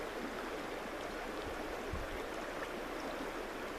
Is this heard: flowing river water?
yes